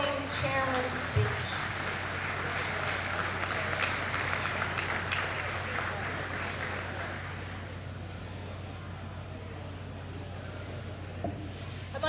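Banquet audience applauding: steady, fairly distant clapping from a crowd in a hall that swells and then gradually tapers off, with a few voices faintly underneath.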